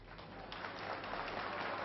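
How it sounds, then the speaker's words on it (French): At a boxing match, a hall crowd of around 1,500 people applauds in a brief, steady wash of clapping that stays moderately distant. "Le public applaudit."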